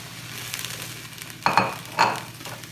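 Venison sears in a hot pan with a steady close sizzle, broken by two louder clattering bursts as a utensil knocks and scrapes the pan, with no speech.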